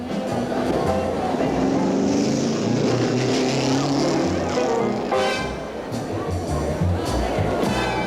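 A race car roars past during qualifying at the 1962 Indianapolis 500, with engine noise rising and falling as it passes, over crowd murmur and a narrator's voice.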